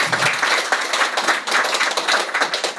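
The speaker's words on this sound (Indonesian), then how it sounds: "kita tepuk tangan untuk Pak Wahyudi" An audience at an education department training opening claps for a visiting guest, a dense, close burst of many hands with uneven pulses that runs steadily throughout.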